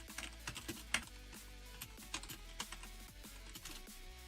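Soft, quick clicks of fingers typing on a computer keyboard, irregular bursts of keystrokes heard close and fairly quiet.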